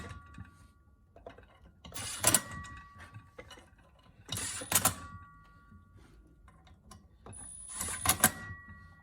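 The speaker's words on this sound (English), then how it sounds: "I'm just going to use my impact just to drive them in and just snug them" Three short bursts from an impact wrench driving bolts into a Polaris Team secondary clutch, each a sharp rattling hammer of a couple of seconds, separated by quieter clinks of handling in a workshop.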